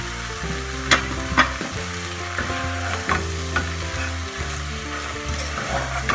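Ingredients with yogurt sizzle steadily in a hot pan for a meatball curry, with occasional stirring scrapes and clinks over the continuous frying hiss.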